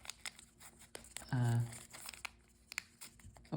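Paper folded for an origami mouse gives soft, close crinkles and creases in brief scattered bursts, with a short voiced sound interrupting partway through.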